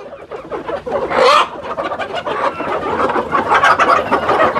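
Native country chickens shut inside a room cluck continuously in a dense, close flock, with one louder squawk rising above the steady chatter.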